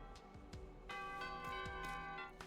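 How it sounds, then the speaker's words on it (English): Bright bell-like chimes ring out in the video game Fate Extella The Umbral Star, a layered cluster of sustained metallic tones struck in quick succession and swelling louder partway through, with no talk. "just stop the fucking chimes"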